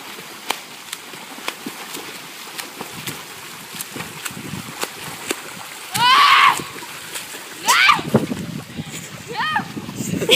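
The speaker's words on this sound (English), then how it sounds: "yours makes big splashing noises when you do it." Swimmers splash in water during rain, a few loud bursts of splashing standing out against a soft, constant patter of rain and quiet ambient noise.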